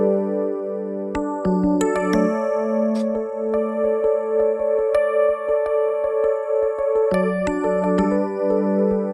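Roland Jupiter X synthesizer playing a bell-like preset: chiming tones and sustained harmonic notes struck in a steady rhythmic pattern over held chords, close and bright throughout.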